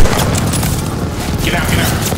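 Constant gunfire and booming battle noise from the Call of Duty: Vanguard campaign mission Rats of Tobruk, loud and unbroken for a couple of seconds, with a voice talking over it.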